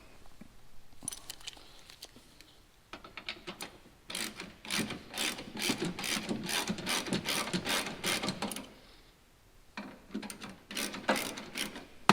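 A hand ratchet snugs down 13 mm bolts on a truck in close, quiet bursts of rapid clicking, pausing between strokes and resuming.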